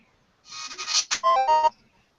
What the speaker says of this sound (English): That is the sound of a beam katana charging.